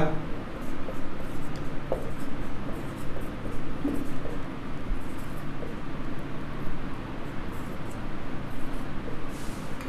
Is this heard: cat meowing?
no